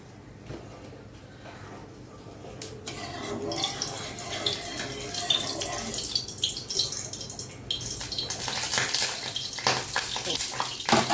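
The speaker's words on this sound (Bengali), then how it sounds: "আমি এখন তেল দিয়ে দিয়ে মাছগুলো ভেজে নেব।" Pieces of katla fish frying in mustard oil in a hot iron wok, a building crackling sizzle with scraping and stirring noises that grows louder and denser over the clip.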